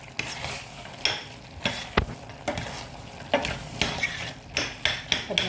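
Beetroot curry with coconut milk stirred in a pot, a spoon scraping and knocking against the sides in irregular strokes over a soft simmer, close and moderately loud with no voices.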